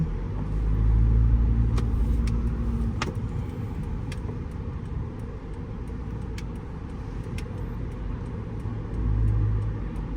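Steady low road rumble and engine drone from a Toyota Vellfire 2.4 V automatic driving in busier Sunday traffic, swelling slightly near the start and end, with faint light rattles and no talking.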